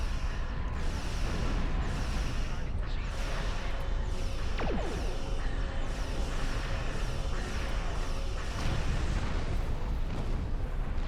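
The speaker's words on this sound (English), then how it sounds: "Oh, crikey, that was a big explosion." Explosions from space combat in the video game Star Trek Online form a dense, constant roar of booms and blasts, loud and unbroken throughout, with no voice over them.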